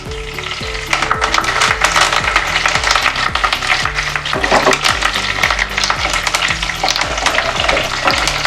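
Curry leaves and dried red chillies fry loudly in hot oil for sukha chicken, a dense crackling sizzle with rhythmic stirring scrapes of a spoon against the pan.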